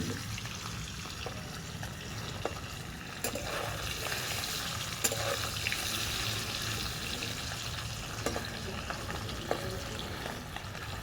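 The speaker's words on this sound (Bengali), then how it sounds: "এক পিঠ ভাজা হয়ে গেছে, আর এক পিঠটা উল্টে দেবো।" Paneer pieces sizzle steadily in oil in a pan as they are turned over, a continuous close frying hiss with a few light clicks of the utensil against the pan.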